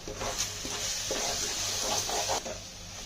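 A spoon stirs chili and salt into a simmering fish curry, fish pulusu, giving soft scraping strokes over a steady sizzle close by.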